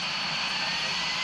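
Aircraft engines drone as a steady, loud roar, where a Twin Otter and three Pilatus planes carry 45 parachutists for a formation record jump; no voices are heard.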